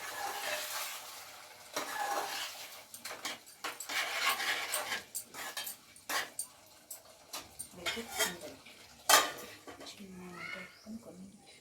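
Egg curry being stirred in a pan, with intermittent scraping and stirring noises, soft sizzling in the background and a dog whimpering nearby at moments.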